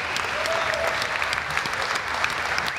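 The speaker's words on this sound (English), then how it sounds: "Applause for that Viper video." Steady applause from a crowd at the Dodge Challenger SRT Demon reveal fills the whole stretch, dense clapping with a faint whistle or cheer rising briefly above it.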